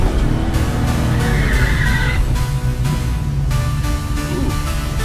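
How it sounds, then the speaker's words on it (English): An H-body Corvette doing a burnout at the drag strip: a loud engine roar with a steady rasp of spinning tires, a rising squeal partway through, and continuous noise throughout. "Let's see if she does a burnout without blowing up the rear end."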